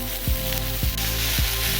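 Hangjeongsal pork jowl sizzles and crackles steadily on a grill, a dense close frying hiss with a few soft thuds of tongs or meat being moved, no talking.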